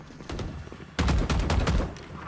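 Rapid gunfire bursts in the tactical shooter Valorant during a ranked match, sharp cracks in quick succession growing louder and denser partway through, with no talk over them.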